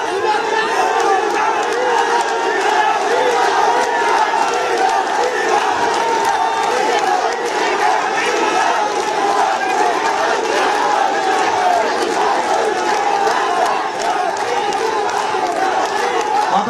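A large crowd shouts slogans in unison demanding a Comilla division at a rally in Comilla, a dense, steady roar of voices that stays loud from start to finish.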